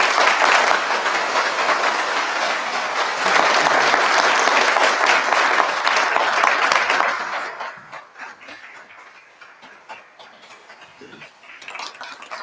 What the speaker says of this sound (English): Give a round of applause, folks.